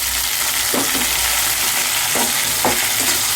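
Onions frying with green chili, tomato and curry leaves in a pan, a constant close sizzle with several soft stirring scrapes of a spoon, no voices.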